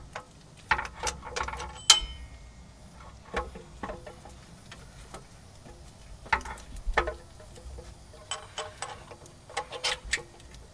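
A ratchet clicks in short, irregular bursts while driving a bolt during a starter replacement on a Chevy K1500 truck, with faint metallic taps and handling noises between the bursts.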